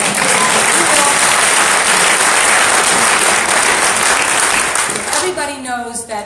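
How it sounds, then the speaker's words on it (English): Loud, sustained applause fills a community meeting hall in Ashland, Oregon, as the audience claps steadily before tapering off at the end while someone begins speaking. "that's worth an applause"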